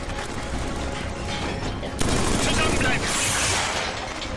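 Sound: gunfire in the video game Killzone 3

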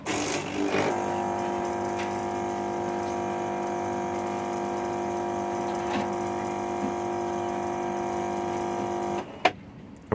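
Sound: Bosch Benvenuto coffee machine rattling while trying to rinse

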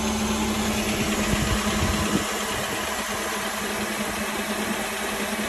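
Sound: 2014 Nissan Sentra SR engine idling after oil change

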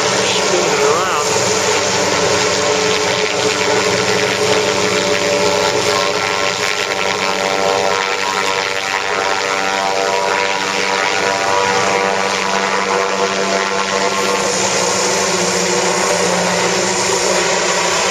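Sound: blimp engines and propellers

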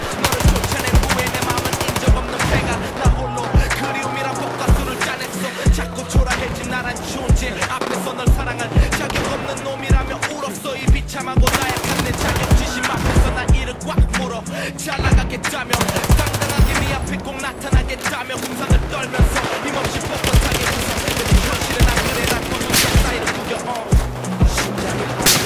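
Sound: machine gun fire in the video game Battlefield 4

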